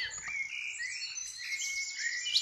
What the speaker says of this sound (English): Let's get some relaxing bird song on for a bit of ambience.